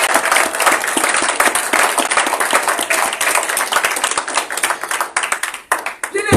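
A church congregation claps and acclaims during a Sunday worship service, with dense, continuous applause and some voices mixed in throughout, thinning slightly toward the end.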